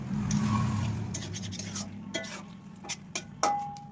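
A utensil stirs prawn curry in a pan with scraping and clinking against the metal, a low background hum running throughout and a few sharper knocks near the end.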